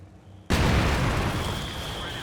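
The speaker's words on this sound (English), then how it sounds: "Now the mortar going to work on that MG inside the building." A sudden loud blast from a mortar shell in a muddy Company of Heroes 2 battle, followed by a sustained rumbling roar that slowly eases, while someone talks over it.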